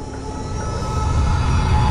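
Airplane engine in the video game Thirty Flights of Loving, a steady low droning rumble that builds slightly in loudness over about two seconds, heard alone without voices.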